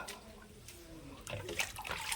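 Water splashes and sloshes as a muddy, soil-caked plant pot is washed, starting after a quieter moment with faint low murmuring.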